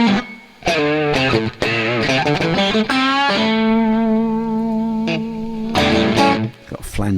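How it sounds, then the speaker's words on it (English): Distorted guitar through a Marshall amp model in Tonex with a tube sweep effect, giving a swirling flanger-like tone; loud chords and single notes ring out, then a long sustained chord carries the sweep, followed by a few more struck chords. "Got a flangery sound on it."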